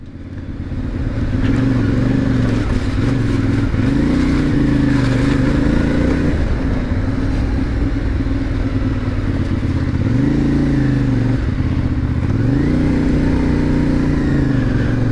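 A CF MOTO 450MT motorcycle is ridden at steady speed, its engine droning loudly and continuously up close, with repeated rises and dips in pitch as the rider shifts and changes throttle, over wind rush.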